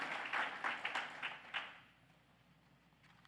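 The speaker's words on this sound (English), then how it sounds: "let's give them a round of applause" Audience applause for honorees at a documentary screening, a brief, fairly faint burst of clapping that fades out after about two seconds into quiet room tone.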